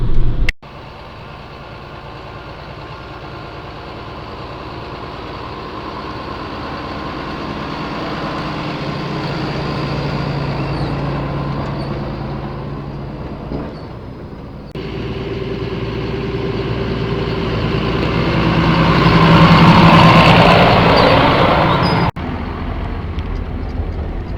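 Continuous low engine drone from a tractor engine braking on a descent during timber hauling, rising and falling gently in pitch and loudness, with a couple of abrupt clicks and no speech.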